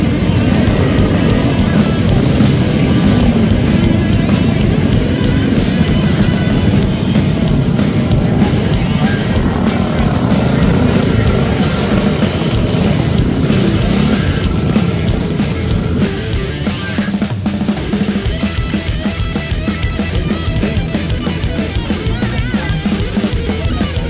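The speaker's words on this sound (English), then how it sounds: "To see this many bikes all turning up at once is insane." Many motorcycles arriving together at the Syds Run ride in Christchurch, New Zealand, a loud continuous mass of engine rumble and revving that holds steady throughout, with a voice talking over it.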